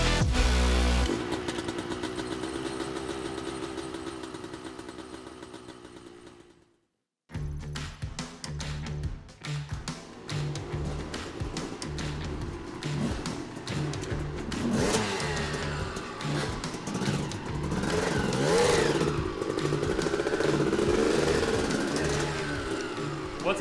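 An old dirt bike engine runs rough at the 24-hour Glen Helen endurance race, revving loud and close with an uneven, sputtering drone that cuts out briefly before restarting and carrying on unsteadily.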